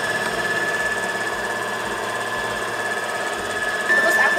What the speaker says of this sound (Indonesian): Ini kita mixer lagi sampai semua tercampur rata.